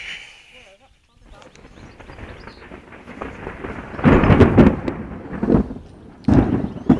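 Thunder from a supercell thunderstorm rolls in as a low, broad rumble that swells into two loud, heavy surges, the second one abrupt and close, over a steady outdoor background.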